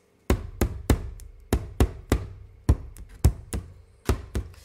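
Sharp, drum-like taps strike a canvas that has been sprayed with water from a spray bottle, about a dozen hollow knocks in an uneven rhythm, close and clear, with no talking.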